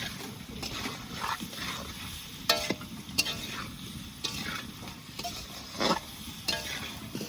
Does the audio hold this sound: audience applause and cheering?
no